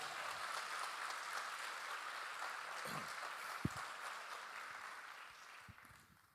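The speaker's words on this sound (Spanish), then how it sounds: "Dale un aplauso al Señor" A church congregation claps for the Lord during a sermon, a steady, dense patter of applause that holds fairly evenly across the room and then fades at the end, with no speech over it.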